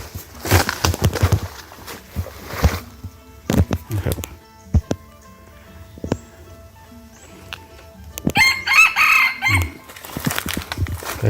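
Wild red junglefowl rooster recorded on a CCTV camera, with sharp crowing bursts and clucks over a sparse outdoor background, some loud and close, others fainter, spread across the stretch.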